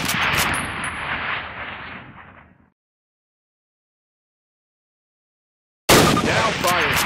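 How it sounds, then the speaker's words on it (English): A Springfield rifle fires in Call of Duty: United Offensive, with loud booming shots and rumbling gunfire at the start, then silence, then another sharp burst of shooting near the end. "Grab up a Springfield rifle from the table, switching it for your carbine. Turn to the left, move to the fence, and fire 2 rounds at your target."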